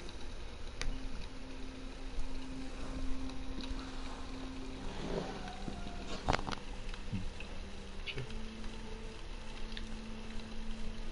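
A boat motor runs in the Fishing Planet fishing game, set on Louisiana waters, as a steady low drone that holds and shifts pitch slightly, with faint wind and a few clicks, at moderate level.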